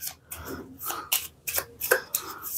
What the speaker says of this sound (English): And now I have to shuffle my deck.